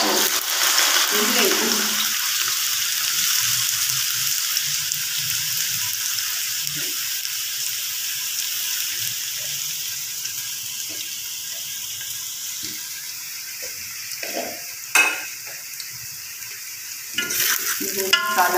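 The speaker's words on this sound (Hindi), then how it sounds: "ये आयल हो चुका है गर्म अब इसमें जाने मसाला" Masala hits hot oil and fries, a loud sizzling hiss that starts strong and settles into a steady crackle, broken later by a few sharp clinks of a spoon against the pan.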